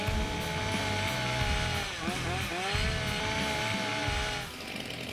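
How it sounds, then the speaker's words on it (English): Several chainsaws idle and rev continuously at a timber sports competition, a loud steady buzzing drone with rising and falling pitch sweeps. "Warm up your saws."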